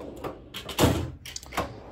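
A wooden drawer in a workshop slides and thuds shut, a few scraping knocks and one heavier bump standing out clearly against a quiet room.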